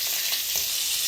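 Slit green chillies frying in hot oil alongside onion, a steady close sizzle with faint stirring taps, no voices.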